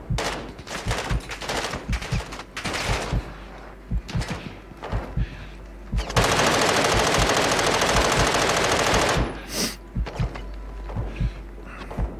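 Rapid automatic gunfire from the video game Call of Duty DMZ, repeated bursts and one long sustained stretch of loud firing up close, with scattered shots and game sounds around it.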